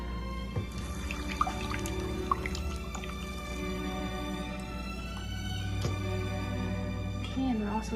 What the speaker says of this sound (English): Then we're going to pour in our batter.